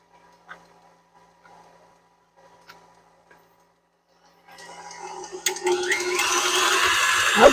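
An electric mixer beating whoopie pie batter made from cake mix starts up after a few quiet seconds of faint clicks, then whirs steadily and grows louder and harsher as it churns.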